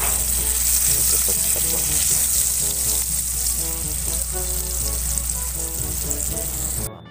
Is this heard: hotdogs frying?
yes